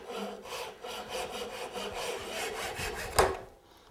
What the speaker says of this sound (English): this is a neat little saw, and it cuts as you pull it toward you.